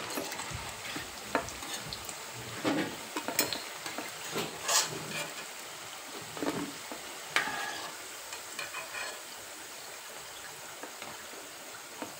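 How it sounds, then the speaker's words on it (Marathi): Corn pakoras crackle and sizzle in hot oil while being scooped out, with a continuous faint frying hiss and intermittent scraping and clinking of the utensil against the pan. "थोडंसं जरा चांगलंपैकी तळून द्यायचं आणि खूप मस्त खुसखुशीत असे होतात"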